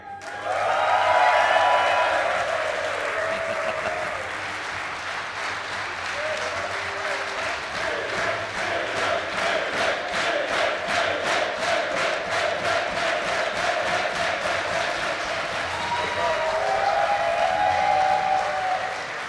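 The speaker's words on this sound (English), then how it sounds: "That's why they're clapping." A crowd applauds steadily for a long stretch, dense clapping that settles into a rhythmic beat, with cheers and voices mixed in.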